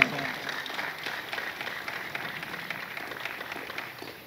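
Audience applause at a UDPS federation gathering in Luanda, Angola: a steady wash of clapping from a crowd, holding at an even level throughout, with some voices mixed in.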